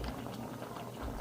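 Ginataang suso, snails in coconut milk with squash and string beans, bubbles in a pot, a faint steady simmering patter heard close.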